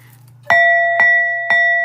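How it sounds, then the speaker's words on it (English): A bell sound effect rings three times at even half-second intervals, each strike loud and clear with a long sustained tone over a faint low hum. "And I got to ring the bell for you, TikTok"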